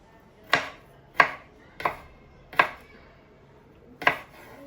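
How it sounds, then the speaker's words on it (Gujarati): A knife cutting ginger into small slices on a board, five sharp separate chops spaced about a second apart, close and clear with no talk. "અદરકના બી એકદમ છોટા છોટા સ્લાઈસ કરી દેવાના"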